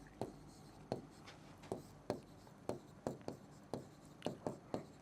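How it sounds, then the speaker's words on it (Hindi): Chalk or a pen taps and scratches as a maths question is written out, a steady run of about a dozen short strokes at an irregular rhythm, close and fairly quiet. "अगर नहीं दिख रहा हो तो मैं लिख देता हूं"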